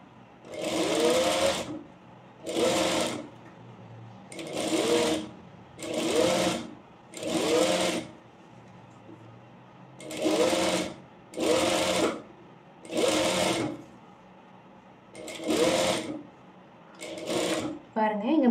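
Petticoat fabric runs through a sewing machine in a regular series of short, close whirring bursts separated by brief quiet gaps, with some speech in between.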